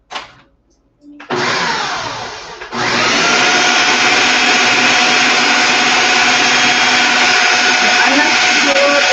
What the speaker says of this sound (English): I don't know if you can hear the blender.